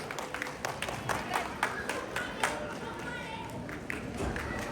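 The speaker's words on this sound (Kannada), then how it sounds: "ದಯವಿಟ್ಟು ಒಂದು ಜೋರಾದ ಚಪ್ಪಾಳೆ ಬರಲಿ" Scattered clapping from an audience at an annual event, a soft, uneven patter of many hands that rises and falls slightly, heard at a distance and fairly quiet.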